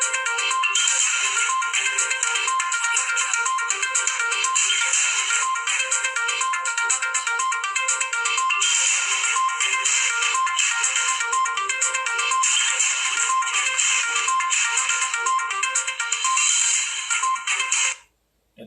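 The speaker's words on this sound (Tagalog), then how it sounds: "tumawag daw ako kay Pres Rodel Passion, subukan natin tawagan" A phone ringtone repeats its bright electronic melody nonstop for about eighteen seconds while an outgoing call rings unanswered, then cuts off abruptly.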